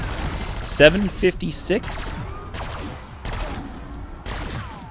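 Grekhovas pistol firing in Black Ops 6 Zombies, with several sharp shots spaced out across the clip amid game effects, and a voice briefly calling out numbers.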